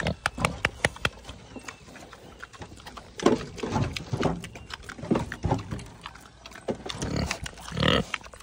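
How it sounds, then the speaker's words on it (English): A big pig at an animal sanctuary grunts and snuffles close by while feeding, in irregular bursts mixed with clattering and hoof-like knocks across several seconds. "There's big pig."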